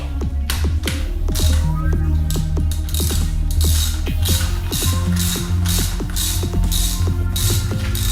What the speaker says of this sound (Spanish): cogemos la llave de aquí arriba, que es la 21, ahí, y aflojamos